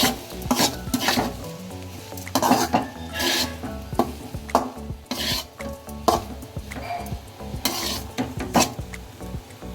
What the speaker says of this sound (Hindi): पोहा डालने के बाद सबको मिक्स कर लेंगे।